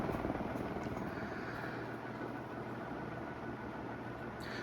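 A D.E.M.C. 36-inch industrial ceiling fan runs on high, a steady broadband whoosh of moving air with a low rumbling hum, continuous and close, with no talking.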